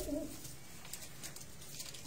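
Soft pigeon cooing on a Faisalabad rooftop, low and murmuring, heard faintly against a hushed background hiss.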